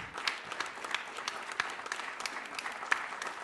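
Lively audience applause at a conference's closing plenary, with many people clapping steadily and crisply, individual claps poking through a thick, even wash of sound from nearby.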